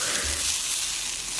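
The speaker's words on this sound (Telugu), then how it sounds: "ఇవి రెండు సన్నని సెగ మీద చక్కగా పోపులో, నూనెలో మగ్గుతూ ఉంటాయి" Cluster beans and onions cook in oil over a low flame, a soft continuous sizzle heard close and fairly quiet.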